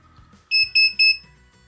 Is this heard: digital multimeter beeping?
yes